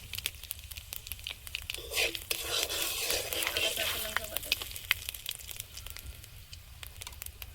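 Bay leaf, fenugreek seeds and whole cumin crackle and sizzle in hot oil for several seconds, a brief crinkly burst of frying close to the pan with no talk.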